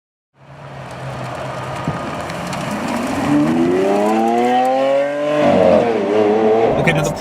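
A Lamborghini Aventador SV engine climbs through rising revs, close and loud, with a brief dip before pulling up again; faint talk sits underneath.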